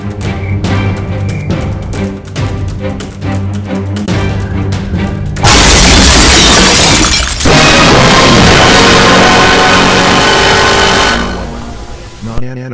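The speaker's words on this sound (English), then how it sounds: "First punishment, smashing all your stuff." Personal belongings being smashed and broken in a loud, sustained crash with shattering glass-like bursts, very close and harsh, continuing for several seconds with dense overlapping impacts.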